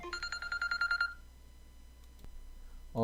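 A telephone signals an incoming call with a rapid burst of electronic beeps lasting about a second. Quiet follows, broken by a faint click and a short tone at the end.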